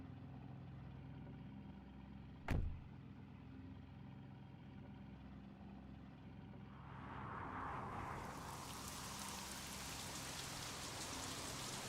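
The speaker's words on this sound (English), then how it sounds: "I'm going to turn on rain right now to kind of figure out how that feels on this track." Rain in the racing video game Assetto Corsa on a backwoods drift track, with a thunderstorm setting: one sharp crack early on, then a hiss of falling rain that builds from faint to a dense, steady downpour over an idling engine.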